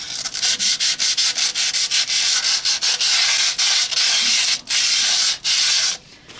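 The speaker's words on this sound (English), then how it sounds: "it's just some sandpaper that I grabbed. I'm not using this to try and scrape this or make an indentation or anything, just trying to clean off the rust on there." Sandpaper scrubs rust off a metal part during a 1952 Ferguson TO30 tractor rebuild, in quick, loud, close rasping strokes with short gaps between them that stop near the end.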